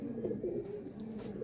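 A pigeon coos close by in a low, throaty rolling call that repeats twice, clear and alone over quiet room noise.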